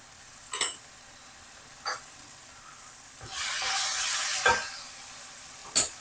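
Homegrown tomatoes tipped into a hot pan, a few sharp clattering drops and splashes followed by a soft rising hiss of sizzling, close and fairly loud.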